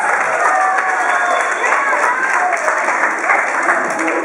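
A game show audience in San Jose breaks into loud, sustained applause with a few cheers, a dense wash of clapping from start to finish.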